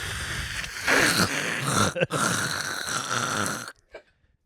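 A man gives a long, loud, groaning yawn, drawn out over several seconds with a brief catch partway through, then breaking off into quiet with a small trailing sound.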